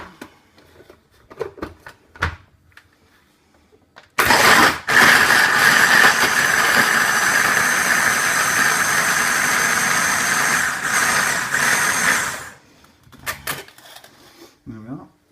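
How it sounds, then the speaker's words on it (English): A blender blitzes sweet mango chutney with a splash of water, a loud steady whirring drone running about eight seconds and then cutting off, with quieter clicks and handling noise before and after. "then we're going to blitz it up."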